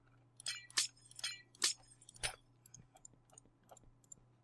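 Glassy clinks and clicks from yellow stained glass panes being placed in Minecraft, a handful of bright taps in quick succession followed by fainter scattered ticks, with no talking.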